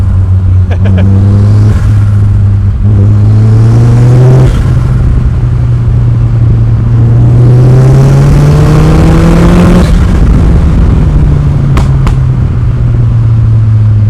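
A 340 bhp Mazda MX-5-based sportscar engine revs hard at close range, with rising and falling pulls through several gears, a loud continuous engine roar and short crackling pops between shifts.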